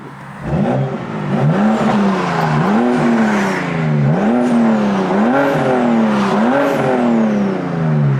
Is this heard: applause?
no